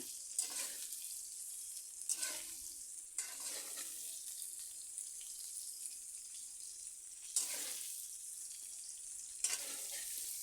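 Cauliflower and potato sautéing in a pan give bursts of loud sizzling as they are stirred, separated by quieter stretches of low frying, close up with no voices.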